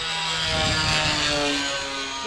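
Airplane engine drones steadily in flight in a video game, a loud continuous hum with a slight swell in the middle and no speech over it.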